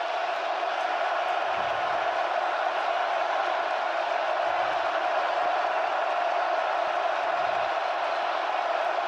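A loud crowd roars without pause through a Nebraska versus Colorado college football game at the stadium in Lincoln, a dense, steady wall of sound with no break and a few deep thumps underneath.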